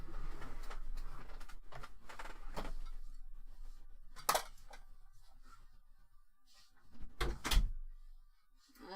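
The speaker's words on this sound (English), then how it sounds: "I'll close the door." A door is pushed shut indoors, giving a couple of sharp knocks and a short thudding close over a faint room background, after some quiet shuffling and clicks.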